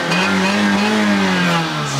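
A car engine fitted with a Miltech exhaust revs hard and close, a loud, throaty drone that rises and holds before dropping slightly at the end.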